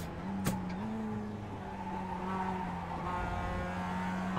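A Mazda MX-5 Cup race car in iRacing at Laguna Seca runs steadily off track onto gravel, its engine droning at a constant pitch with some skidding noise and a brief sharp click near the start.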